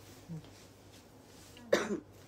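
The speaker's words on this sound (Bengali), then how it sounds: "কি কাশি হইছে খালি গলা শুকায় যায়" A single sharp, close cough bursts out near the microphone in an otherwise quiet room, preceded by a small throat sound.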